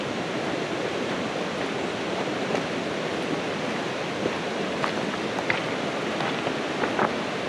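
Steady broadband rush of a river flowing near a roadside campsite in Vermont's Green Mountain National Forest, continuous and fairly close, with a few faint clicks and rustles on top and no talking.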